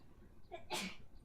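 A single short sneeze indoors, faint and quick, over a quiet background.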